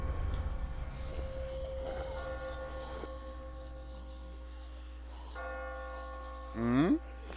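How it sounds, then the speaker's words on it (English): Bells tolling in The Walking Dead video game, steady ringing tones over a low background hum, ending with a short loud rising sound. "I just got spooked by those bells"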